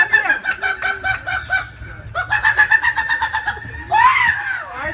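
A chicken clucks in quick repeated bursts, rising into a louder squawk at the end, close and clear.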